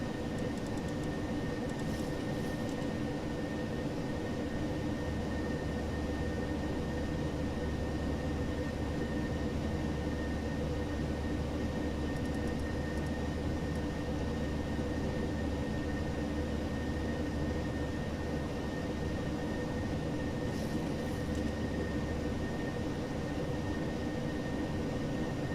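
Steady, broadband cockpit roar of a Ryanair Boeing 737-800 climbing toward cruising altitude, a constant loud rushing drone with a faint low hum and a few brief faint clicks, no speech.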